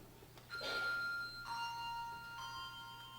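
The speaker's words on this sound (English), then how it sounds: "ring 3 bells for love" Three bells strike in turn at roughly even intervals, each adding a bright ringing tone that overlaps and decays over a low background hum.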